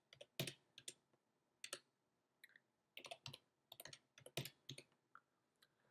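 Password and user ID keyed in on a computer keyboard to log on to a remote DB2 database: irregular bursts of crisp key clicks, near and fairly quiet, with no talking.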